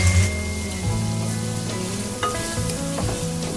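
Chicken frying with ginger garlic paste in a hot pan: a steady, close sizzle with occasional stirring clatter, continuous throughout, no talking.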